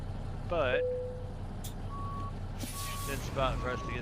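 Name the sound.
truck reversing beeps in American Truck Simulator video game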